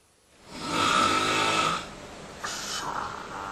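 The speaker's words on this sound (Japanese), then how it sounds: "いびきですね" A sleeping person snoring, picked up by a bedside microphone: one long, rasping inhalation snore, then a softer, shorter follow-up breath, close and fairly quiet in an otherwise still room.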